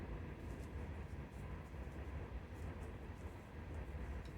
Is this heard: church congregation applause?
no